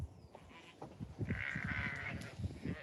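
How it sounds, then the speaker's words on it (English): Sheep bleat on a farm just before feeding, a few faint calls from the flock over low background rustling and movement. "So I'm just about to feed the sheep."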